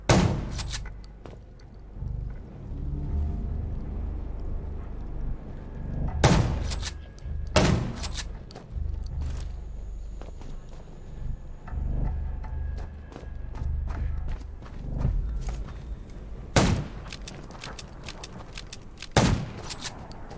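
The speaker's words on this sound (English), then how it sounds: "Gunshots will attract more" Sharp gunshots ring out in a zombie video game, a few isolated loud cracks scattered among low rumbling ambience and thuds, spaced irregularly rather than in sustained bursts.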